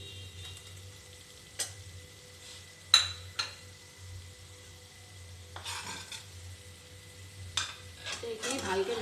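Egg and potato curry for dim tarkari is stirred in a pan over high flame, with faint sizzling and several sharp spoon scrapes and clinks against the pan, quiet and close with no talking.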